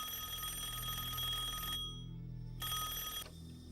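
A telephone rings in a home, a bright electronic trill in two bursts separated by a short gap, steady and moderately loud with no voices.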